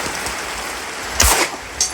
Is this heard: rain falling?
yes